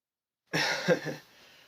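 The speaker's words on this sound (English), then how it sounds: "you might hear some extra chunky coughs" A single harsh, close cough bursts out abruptly after a moment of silence, followed by a brief rough exhale trailing off.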